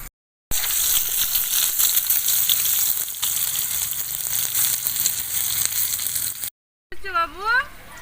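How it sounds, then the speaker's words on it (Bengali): Potatoes frying in a pan, a loud close sizzle running steadily with brief breaks, followed at the end by a voice. "এবার আমি আলুগুলো একটু ভেজে নেব।"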